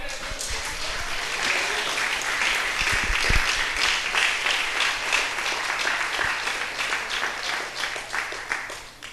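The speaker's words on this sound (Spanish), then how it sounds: "denle un aplauso al Señor" A church congregation breaks into sustained applause for the Lord during a Spanish sermon, dense clapping filling the room steadily at a loud level for several seconds.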